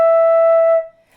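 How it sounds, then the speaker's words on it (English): A single sustained flute note, an E natural, sounds clear and steady for under a second before cutting off into near silence. "And E natural sounds like this."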